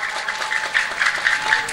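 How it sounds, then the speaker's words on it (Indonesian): Applause for the santri at a religious gathering, a steady wash of many hands clapping, moderately loud and somewhat distant, with no talk over it. "Tepuk tangan dulu dong buat santri kita luar biasa."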